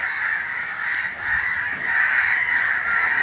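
A crow caws repeatedly near a spot where it was rescued after an electric shock, its harsh, strained calls running almost continuously and fairly loud over faint background noise, with no talk.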